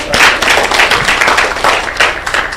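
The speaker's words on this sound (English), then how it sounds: "Please, let's clap for them." Audience at a Kenyan conference on digital health technology applauding, a loud, dense round of many hands clapping steadily and close for the whole stretch.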